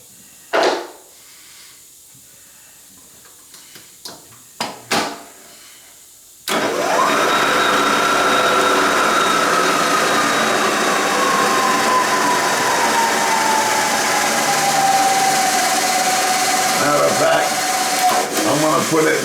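A knee mill with an annular cutter adaptor starts up and runs, its loud steady motor hum and whine settling into a continuous drone. Several sharp clicks and knocks come before it starts.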